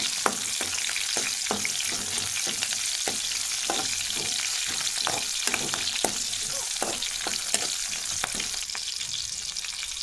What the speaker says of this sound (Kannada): ಆನಂತರ ಹಸಿಮೆಣಸಿನ್ಕಾಯಿನ ಹಾಕ್ಕೊಂಡು ಚೆನ್ನಾಗಿ ಎಣ್ಣೆಯಲ್ಲಿ ಫ್ರೈ ಆಗಬೇಕು